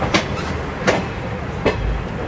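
The Palnadu Superfast Express rolls along the rails between Vikarabad and Secunderabad with a steady rumble, broken by three sharp clacks of wheels crossing rail joints at even intervals.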